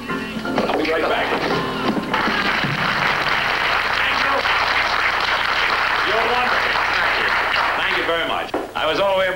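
Audience applause fills the room, a broad sustained wash of clapping with some voices and shouts mixed in, fading slightly near the end.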